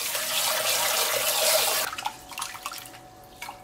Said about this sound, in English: rinse the rice